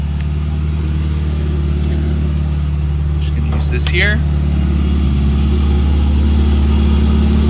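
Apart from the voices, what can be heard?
Ferrari 488 Pista engine revving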